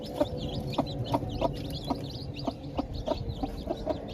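A desi hen clucks repeatedly in short rhythmic bursts while newly hatched chicks cheep in high, thin peeps all around, close and steady with no talking.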